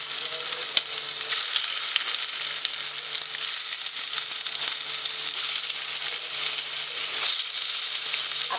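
Squid (makla) fries in a pan with asafoetida and garlic over a low flame. A steady, close, hissing sizzle runs throughout, with a couple of faint clicks.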